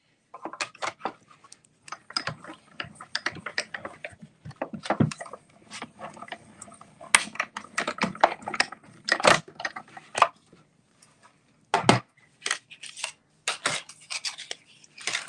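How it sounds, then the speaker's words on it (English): Paper running through a die cutting machine for a fold-out gift card holder card, a string of close, irregular scraping and crunching bursts separated by short pauses. "So let's die cut this one."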